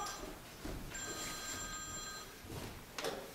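A telephone rings faintly indoors with one brief electronic trill.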